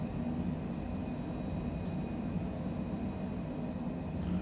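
An airliner in Microsoft Flight Simulator accelerates toward 250 knots with a steady, dense engine and wind roar, loud and unbroken throughout, and a faint high tone running underneath.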